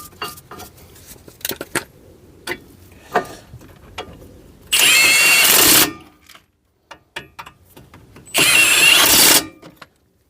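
An impact gun tightens brake carrier bolts on a Vauxhall Adam in two loud, close, rattling bursts of about a second each, separated by clinks and knocks of tools and parts.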